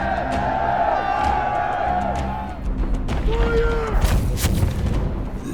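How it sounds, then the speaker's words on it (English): Film battle sound of French and American artillery shelling the British lines at the 1781 siege of Yorktown: sustained booming rumble with repeated blasts and whistling shells. Voices sound over and among the detonations. "thousands of French and American shells bombard the British lines at Yorktown"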